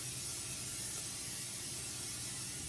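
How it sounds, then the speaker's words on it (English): A short, steady hiss of aerosol cooking spray sprayed into a pan, close and even, lasting a few seconds without pause. "if you have cooking spray, you can also use that to spray in here"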